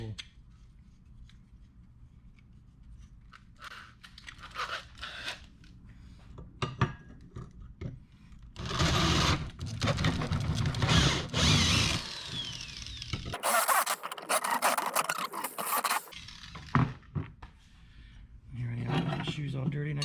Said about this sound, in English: Just have to drill a bigger hole.